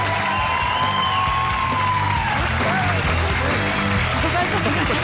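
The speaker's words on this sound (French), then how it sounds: "Je vous demande de les applaudir très très très fort." Steady applause and cheering from a television studio audience at a Christmas special fill the whole stretch, loud and continuous, with crowd noise and a few voices mixed in.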